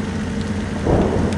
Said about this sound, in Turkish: Yağmur da başladı bu arada.